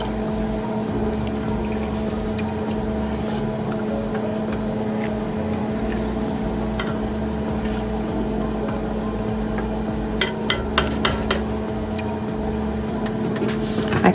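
Water is poured into a pot of vegetable soup with fish, a steady flowing wash under a constant low hum, with a few sharp clicks near the end.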